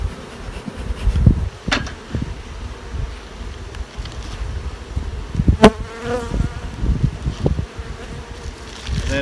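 Honey bees buzz around an opened hive on a cold day while protein patties are being set in, a steady insect drone mixed with handling knocks and light wind.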